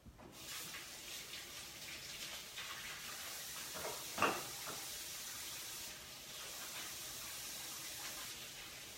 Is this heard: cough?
no